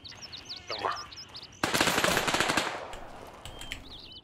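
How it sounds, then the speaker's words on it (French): Rapid automatic gunfire bursts in the tactical shooter Gray Zone Warfare, loud and close for a sustained volley after a quieter opening with distant shots and birdlike chirps, then tapering off. "Ouais, ça tire sur nous."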